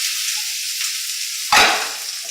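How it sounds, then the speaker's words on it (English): Onion frying in a pan, a continuous bright sizzle heard up close, with a sudden louder hiss burst partway through as more onion goes in; no talking. "We're going to add a bit more onion there now."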